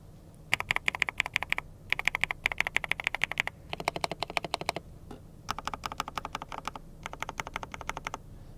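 Typing on a GK600 TKL wireless keyboard with linear switches, rapid close keystrokes in bursts of even clacks with short pauses between runs, crisp and free of rattle.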